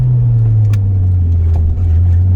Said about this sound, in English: Let's downshift a second.